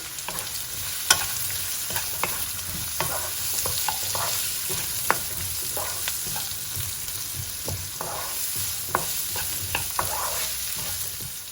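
Black-eyed beans frying in a pan over medium heat for a Punjabi lobia masala curry, a steady close sizzle with scattered pops and crackles throughout, no voices.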